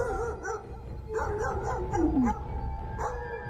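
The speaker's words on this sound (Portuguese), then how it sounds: "O local abriga muitos cachorros. E o comum é que, em algumas noites, eles comecem a uivar e latir." Several dogs bark and yip in repeated bursts, with a drawn-out howl-like whine rising in the middle, at a moderate distance and with no talk, around a Parque Estadual site in São Paulo that houses many dogs.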